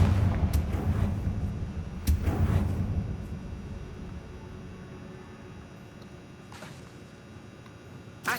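Confringo fire spell blasts in the Hogwarts Legacy video game, several sharp booming bursts in quick succession early on with rumbling decay, then a quieter stretch with a couple of fainter hits.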